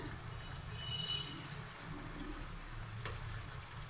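Garlic and chicken frying in a pan, a quiet, even sizzle under a low steady background hum, with a faint scrape near the end.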